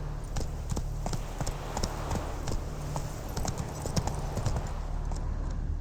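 Roach, a horse in the video game Witcher 3, gallops with a steady, rapid clip-clop of hooves, close and continuous, over a low ambient hum with no talking.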